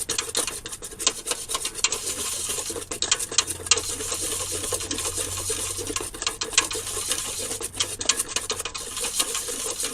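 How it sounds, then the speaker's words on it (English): A whisk scrapes quickly and continuously through a Cajun roux cooking over high heat, making a close, busy rasping and scratching with brief pauses. "keep whisking away"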